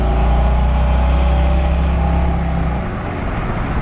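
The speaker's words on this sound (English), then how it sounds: "Got a great sounding engine." A 1953 Ford F100 pickup truck with an engine said to sound like a Mustang, running while driving, giving a steady low rumbling drone with a slight drop in pitch near the end, loud and close with no voices.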